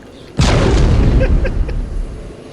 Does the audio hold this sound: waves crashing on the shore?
no